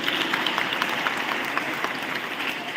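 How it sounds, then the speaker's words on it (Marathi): Audience applause at a school celebration of Chhatrapati Shivaji Maharaj Jayanti, a dense, even patter of many hands clapping continuously at moderate distance with no pauses. "त्यासाठी सर्वांनी एका टाळ्या झाल्या पाहिजे"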